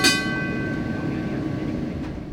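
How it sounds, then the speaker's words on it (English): A 1948 Chicago streetcar runs on rails in a loop at a railway museum, giving a steady low rumble with a faint tonal whine that fades after a short burst at the start. "Today it travels in a loop around the museum to show visitors all the storage barns."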